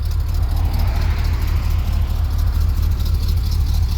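Camaro or Squarebody truck engine running steadily with an exhaust leak, a loud continuous low rumble close by with no talking over it.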